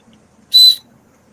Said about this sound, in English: And it's got a decent whistle,